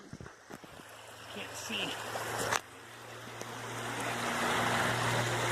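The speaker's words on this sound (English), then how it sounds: "the beautiful little creek here" Small creek on the Appalachian Trail rushing steadily nearby, a broad washing flow that grows louder, with footsteps, gear handling and a brief spoken remark over it.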